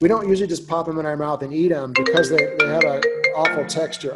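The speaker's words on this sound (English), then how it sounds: "That was my phone." A mobile phone ringtone chimes repeatedly at moderate volume, partly buried under a person talking steadily in a kitchen setting about pickling wild edibles.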